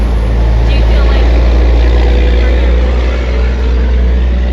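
A truck roars past close by, loud and sustained, its heavy engine rumble filling the whole stretch.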